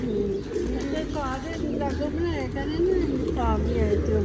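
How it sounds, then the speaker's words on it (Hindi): Pigeons coo repeatedly in soft, rolling calls close by, while a person speaks over them. "ये कबूतर हैं, पता है तुम्हें?"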